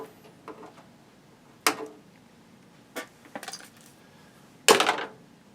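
Electronic component leads being trimmed with cutters, a few sharp metallic snips and clicks spaced out over several seconds, close and crisp against a quiet background.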